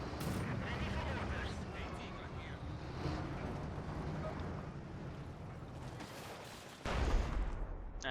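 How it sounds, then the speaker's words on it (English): Howitzer artillery fire rumbles through a Company of Heroes 2 match, a dense, loud battle din with a heavier blast surging in near the end, while a commentator talks over it throughout. "And more howitzer fire there from Gentlefox"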